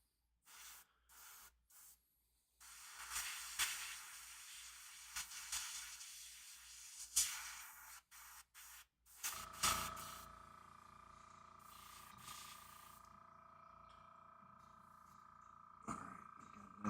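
An airbrush spraying a base coat of paint onto a miniature, several short hissing bursts and then a longer steady spray, followed by a faint tonal hum.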